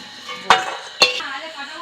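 Fried lentil dumplings are lifted from a wok, with two sharp metallic clanks of a spoon or spatula against the pan about half a second apart, each ringing out briefly over a quiet background.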